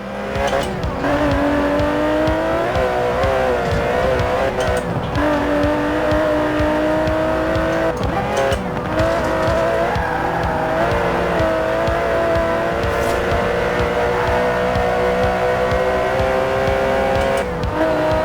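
An Aston Martin DB11 with a 5.2-litre twin-turbo V12 revs loudly in Forza Horizon 4. It holds a sustained, steady roar, with gear-change dips in pitch and brief tire squeals across the run.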